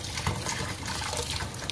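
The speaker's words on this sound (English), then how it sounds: "Let me put some water in this little blender here" Water pours into a small blender in a home kitchen, a steady splashing, trickling wash that fills the whole moment at close range with no voices.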